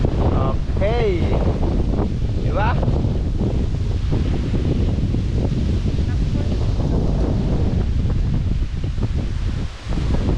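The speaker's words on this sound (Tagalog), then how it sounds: "ang lakas ng hangin" Strong, steady wind roars across the microphone with rustling and buffeting throughout, while a few faint voices and brief tones come and go.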